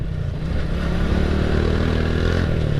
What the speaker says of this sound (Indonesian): dari segi suara knalpotnya juga udah berubah guys dari yang sebelumnya